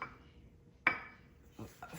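A metal pan of chicken vesuvio topped with bay leaves goes into a hot oven, making one sharp metallic clank with a brief rattle, then a couple of softer knocks, close by with no talk.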